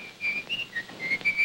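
Someone whistles a short tune of clear, bright, sustained notes with small pitch slides, fairly close and moderately quiet against a hushed background.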